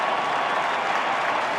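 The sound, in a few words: crowd applauding at ballpark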